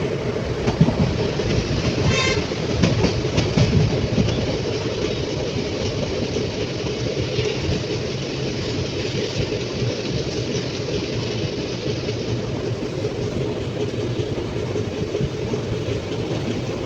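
A train rolls past at Mysuru railway station near Ashokapuram, a loud continuous rumble with rhythmic clattering wheels over rail joints, holding steady as the carriages keep passing.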